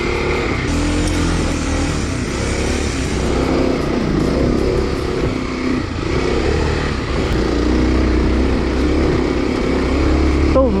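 Kawasaki KLX dual sport motorcycle ridden through tight trees and whoops on single track, its engine droning and revving continuously up close, with shifting pitch as the throttle rises and falls.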